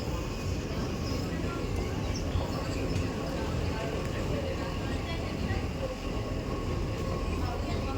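Steady rumble and rattle of a crowded Dubai Metro train running, loud and continuous throughout, with a crowd murmuring faintly underneath.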